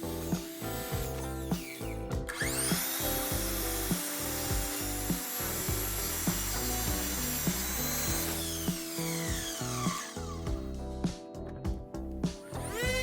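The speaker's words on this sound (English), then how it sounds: "Next, I cut out the 45-degree post supports." A saw cuts through 2x4 lumber for a wooden gym rack, steady rasping strokes running continuously and close, with short pauses near the start and toward the end.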